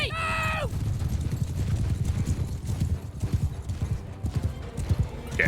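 Cavalry horses gallop in Mount and Blade Bannerlord, a loud continuous drumming of many hooves with a horse whinnying at the start and end, battle noise mixed in.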